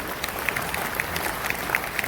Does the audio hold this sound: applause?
yes